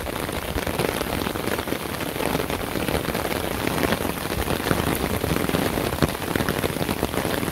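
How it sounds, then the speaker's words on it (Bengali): Steady, dense rain pours down in a village, a constant close hiss of drops striking surfaces with no pauses and no talking. "সেরকম বৃষ্টি হয়েছে"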